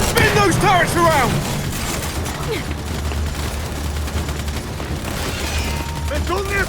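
Turret gunfire rages through a Gears 5 firefight, dense bursts layered with booming impacts and a low rumble under shouted voices.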